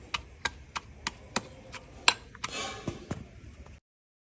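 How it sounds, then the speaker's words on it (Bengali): Amla, Indian gooseberry, being cut with a knife on a board, about a dozen crisp, evenly spaced chops close by, ending in a short scrape. "এবারে আমলকিটা কেটে দে।"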